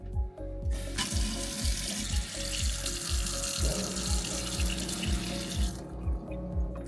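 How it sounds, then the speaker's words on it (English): Tap water gushes steadily after the household water pressure comes back on, a loud continuous rush with no talking over it. "Water pressure back on"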